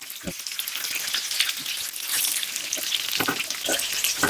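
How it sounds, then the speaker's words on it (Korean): Steady, crackling sizzle of beef intestines frying on a hot griddle, continuous and close, with occasional louder pops and spatters and no voices. "곱창 익는 소리가 아주, 아주 환상적입니다"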